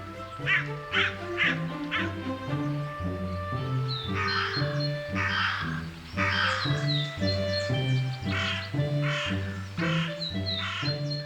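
Crows in Rome give repeated harsh caws, several calls in irregular bursts, heard over a steady rhythmic background of low tonal sound.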